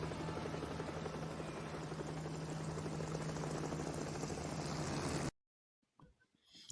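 In a film scene a helicopter drones with a steady, beating rotor roar for about five seconds, then cuts abruptly to near silence with a faint rustle at the end.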